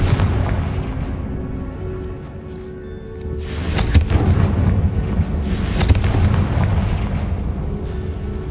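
A fiery Confringo spell explosion in Hogwarts Legacy, with heavy rumbling booms and blasts that swell and burst in succession over a dense roaring background, loud and close.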